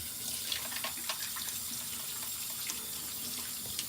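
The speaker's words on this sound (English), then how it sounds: "then we rinse the exfoliant off. Still with cold water." Cold tap water runs steadily into a sink while face exfoliant is rinsed off, a close continuous hissing splash with faint irregular splatters as hands move through the stream.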